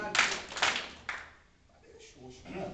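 Several sharp hand claps at a steady beat in a Portuguese clapping song, close and prominent, followed by quieter singing or talking voices.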